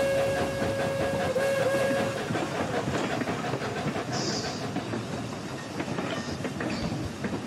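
A steam locomotive in an American railroad video game rolls downhill with steady rumbling and clattering wheels throughout, a held whistle tone early on and brief hissing bursts of steam later.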